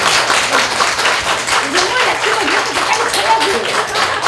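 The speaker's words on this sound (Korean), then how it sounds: "박수 한번 쳐야 돼요." Audience hands clapping together at a temple food cooking workshop with a Buddhist monastic chef, a dense, steady patter of many claps mixed with voices talking over it.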